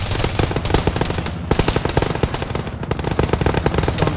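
Rapid automatic gunfire from an Arma 3 military-simulation firefight, with dense, loud bursts rattling on continuously and barely pausing, and no voices.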